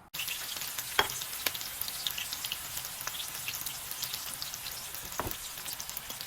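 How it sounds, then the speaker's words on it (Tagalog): Sliced onion frying in hot oil until crispy makes a steady, close sizzle that keeps going the whole time, with a few sharper pops and crackles rising above the constant hiss. "Piprito ko lang siya hanggang sa maging crispy na siya."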